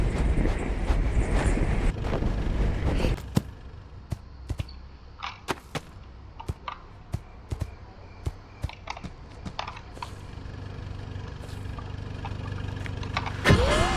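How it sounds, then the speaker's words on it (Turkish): A car passing by in the Hello Neighbor video game, a broad engine roar that fades out over the first few seconds. Scattered clicks follow, and a second roar swells at the very end. "Böyle araba geçiyor."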